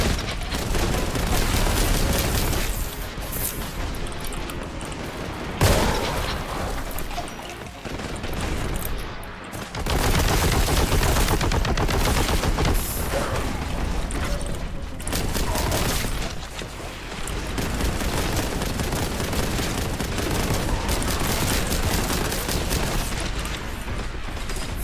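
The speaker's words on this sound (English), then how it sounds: "pumping in bullets" Sustained gunfire and heavy booms from the Warhammer 40k: Boltgun shooter game, loud and near, in dense continuous bursts with brief lulls around six and ten seconds.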